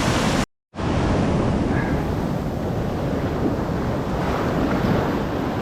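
Surf breaks on a beach shore during kayak fishing, a loud, continuous wash of wave noise mixed with heavy wind buffeting against the microphone, with a brief dropout near the start.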